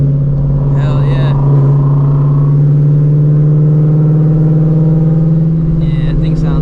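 Idling Ford Shelby GT350 V8, built to about 800 hp with a ProCharger supercharger, rumbles steadily and loud and close throughout, with a slight rise in pitch partway, while people talk over it.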